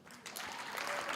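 Graduation ceremony audience at Walter Sisulu University breaking into applause, the clapping swelling quickly from quiet into a dense, steady roar of many hands in a large hall.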